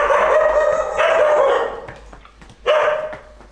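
Dogs bark loudly and close by on a Varanasi street on an early Holi morning, three sustained, strained barking bursts with a short gap before the last one.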